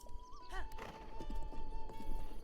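A horse in a Zelda video game whinnies a couple of times and then its hooves clip-clop in a quick, steady rhythm, close and clear.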